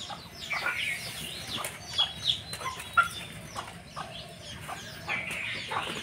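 Village desi chickens and a rooster cluck and call nearby, scattered sharp squawks rising over a steady low murmur of the flock.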